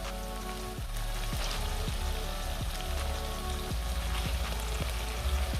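Chicken pieces go into masala paste frying in hot oil for Bengali coriander chicken, giving a steady close sizzle with regular soft clicks and knocks from the pan, and no talking.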